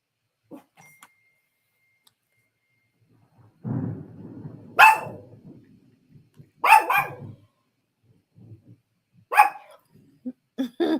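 Dog Remy barks in several sharp, loud bursts separated by pauses, with a low rumble of thunder and quieter stretches between barks indoors.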